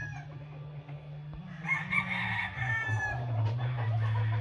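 A Ben Lester gamecock rooster from Timberland crows clearly, its long call rising and holding over a steady low background hum, close and fairly loud.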